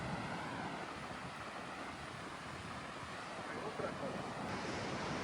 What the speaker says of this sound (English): the sound of waves crashing in the distance